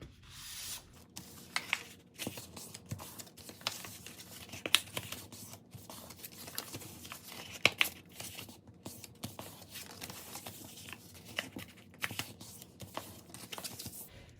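Cardstock paper is folded and creased by hand into an origami gift box, giving steady soft rubbing and scraping with scattered sharper crinkles and taps, close and fairly quiet, with no talking.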